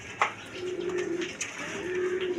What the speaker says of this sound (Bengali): এই দেখেন একদম বিগ সাইজের কবুতর